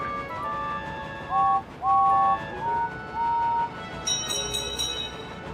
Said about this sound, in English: The lady blows her whistle one last time and says goodbye to Sodor